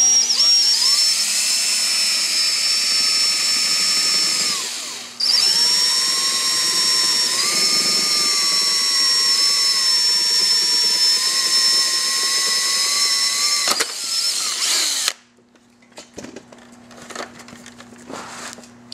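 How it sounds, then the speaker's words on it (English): A power drill whines loudly at a steady pitch boring a wire hole for heated grips on a Victory Vision motorcycle, pausing briefly mid-way, then stops, leaving faint handling noises. "you have to drill the hole where the wires go."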